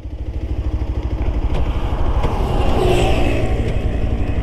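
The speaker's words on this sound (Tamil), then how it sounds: "ஃபுல் ஃபோர்ஸில் மிதிக்கிறேன் வண்டி பிரேக் வந்து ஸ்கிட் ஆகுதான்னு பார்ப்போம்" A Bajaj Pulsar 125 Neon BS6 motorcycle engine runs steadily at speed during a hard brake test, a loud, close, continuous drone with rhythmic low pulsing and rising wind roar, and no talk.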